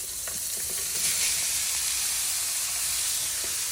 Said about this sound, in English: Now I'm going to add the zucchini noodles